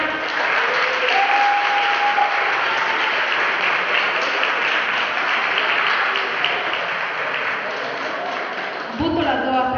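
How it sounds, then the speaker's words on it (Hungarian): Audience applause fills a school freshman ball hall, a steady dense clapping that carries on for most of the stretch before tapering near the end, with some faint voices mixed in. "tapsot kérek szépen."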